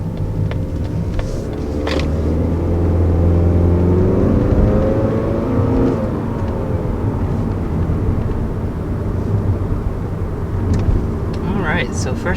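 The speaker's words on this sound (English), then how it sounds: "So first taking off in the 2019 Mazda 3, you can definitely tell that extra power right off the bat." A 2019 Mazda 3 sedan pulls away from a stop, its engine note rising in pitch and loudness over the first few seconds before settling into a steady cabin hum. Someone talks over it throughout.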